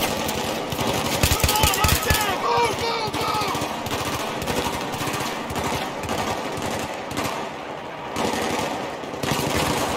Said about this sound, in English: They're still shooting us.